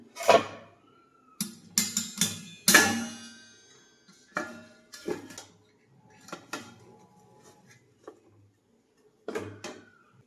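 A metal lid is set over a pan of eggless coconut biscuits on a gas stove, making a series of clinks and clanks spaced through a quiet stretch, close and distinct, with no voices.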